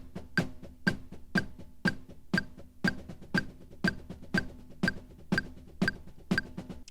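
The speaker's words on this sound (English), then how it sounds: "you've probably heard this many times when someone's playing a snare drum" A march rhythm on snare drum, programmed and played on an Ableton Push 2. Crisp, even hits land on every beat, about two per second, with sharper accents, moderately close and without any voices.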